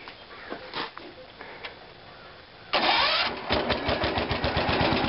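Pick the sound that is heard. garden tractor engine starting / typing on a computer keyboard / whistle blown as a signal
garden tractor engine starting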